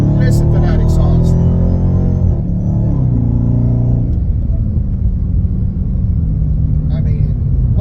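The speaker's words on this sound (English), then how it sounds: "Listen to that exhaust." A Dodge Hellcat's exhaust note while driving, a loud, steady engine rumble with low harmonic drone that shifts pitch partway through, the car's whine and growl filling the whole stretch up close.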